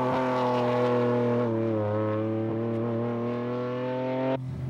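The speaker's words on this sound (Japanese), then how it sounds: "The advantage of this tuned motor is that it's based on the R32 GTS motor, which is relatively cheaper and light." A tuned non-turbo engine based on the R32 GTS motor pulls hard on a track lap, a steady, loud multi-harmonic drone that rises and falls slightly with throttle before cutting off near the end.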